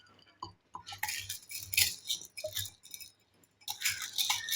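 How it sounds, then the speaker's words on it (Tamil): Turkey berries and urad dal being dry roasted without oil in a clay pot, with scraping and clinking of a utensil stirring against the pot in irregular, close strokes. "மண் சட்டியில் வறுக்க போகிறோம்"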